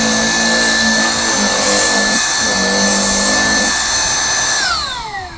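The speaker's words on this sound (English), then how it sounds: "let's try out the vacuum and see how it works." A handheld vacuum cleaner on its low power setting runs with a steady, loud, whining motor drone, then its pitch drops as it begins to spin down at the end.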